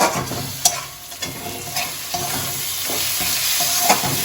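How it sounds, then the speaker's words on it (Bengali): Spicy chana masala stirred and fried with the chickpea cooking water, a close, loud sizzle broken by repeated scraping strokes of a spoon against the pan. "দিয়ে ভালো করে কষিয়ে দিচ্ছি।"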